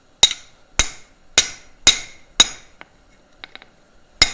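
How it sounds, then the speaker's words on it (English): Sharp hammer blows upset a rivet at the forge, five loud ringing metallic strikes at an even pace, followed by a few lighter clinks and one more strike. "I'm going to come down with some fairly sharp hammer blows."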